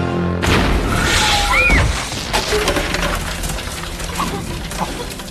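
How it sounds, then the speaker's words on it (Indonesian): A missile strikes and blows apart a house in an action film, a sudden loud boom followed by crashing, shattering debris that rumbles and settles away. "tiba-tiba rumah Frank ditembak oleh rudal."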